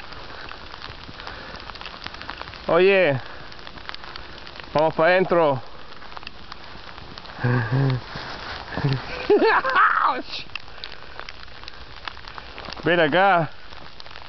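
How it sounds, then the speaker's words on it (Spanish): Heavy hail falls outdoors as a dense, continuous patter. A person calls out in several short bursts over it. "Está cayendo granizo fuerte. Fuerte, fuerte"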